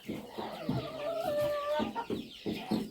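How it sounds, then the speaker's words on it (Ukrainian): Chicks cheep and peep in a busy, overlapping chorus, with some louder clucking mixed in, close by and continuous, in a Ukrainian poultry yard. "Курчата верещать, хочу дати їм зараз мішаночку."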